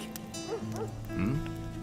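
A large dog in the video game The Witcher 2 gives a few short yips and whimpering barks, close and moderately loud, over a low ambient hum.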